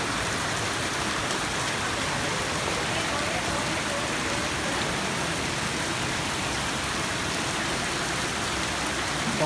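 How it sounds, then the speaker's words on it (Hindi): Heavy storm rain in Lahore pours down in a constant, dense hiss that drums on surfaces without a break. "बारिश बार बार तेज़ तेज़ होती जा रही है"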